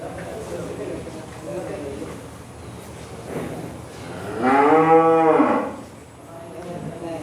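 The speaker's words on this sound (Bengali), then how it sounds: "এই যে লাল গরুটা আর এই যে চিতা গরুটা।" A red cow and a spotted cow, heavy animals of about 500 to 540 kg, give one long, loud, low moo close by, midway through, with people talking before and after it.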